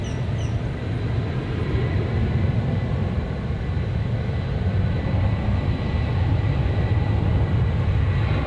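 A UPS heavy jet roars on its takeoff roll from runway 18 Left at DFW Airport, a loud, steady, broadband engine rumble that holds strong throughout, with no talk over it.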